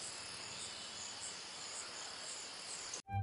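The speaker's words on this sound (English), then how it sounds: "We then spent a few minutes recording some eastern narrowmouth toads calling from a flooded grassy area" A chorus of eastern narrowmouth toads calls from a flooded grassy area in Arkansas as a faint, continuous high buzzing drone that cuts off abruptly near the end with a low thump.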